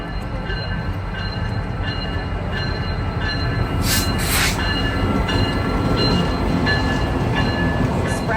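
Skagway's White Pass excursion train runs along, a steady rumble of rolling cars with intermittent wheel squeals and brief metallic hisses, heard from on board at moderate loudness.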